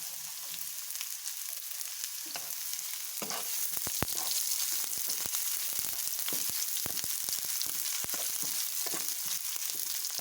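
Onions sizzling in a hot pan for a white pasta sauce, a steady bright hiss with scattered crackles and occasional clinks of stirring throughout.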